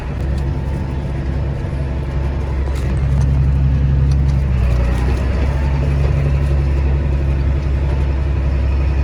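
A Challenger tractor driving, its engine a steady loud low drone heard close, rising slightly midway and holding an even rumble with no talk.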